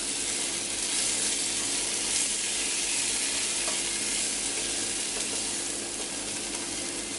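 Food browns in a heavy cast iron chasseur dish, giving a constant loud close sizzle with occasional stirring scrapes and no voices.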